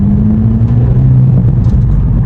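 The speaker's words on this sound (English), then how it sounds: "Don't know how well you can hear the pops there" Exhaust pops and burble from a VW Golf GTI MK5, a loud, close, steady low rumble with small crackles riding on top, no talking.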